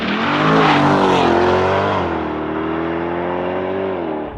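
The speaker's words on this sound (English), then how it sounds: "2024 Chevrolet Corvette E-Ray. With launch control." A 2024 Chevrolet Corvette E-Ray, a 6.2-liter V8 hybrid, launches hard with launch control, its engine roaring loud and close as it rises through the revs, then settles into a steady, strained drone.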